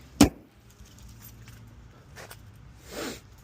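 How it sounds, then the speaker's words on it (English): The hood of a 2016 Dodge Challenger SXT slams shut outdoors in the cold, one sharp loud thud right at the start, followed by faint rustling and a soft shuffle. "Close the hood"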